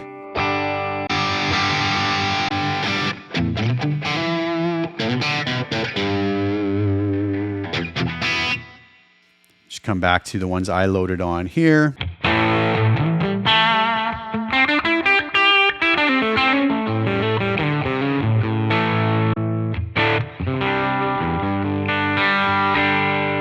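Heavily distorted electric guitar chords and riffs play through stock IK Multimedia ToneX Plug amp-modeler presets, with a short pause as the tone switches, then more driven playing.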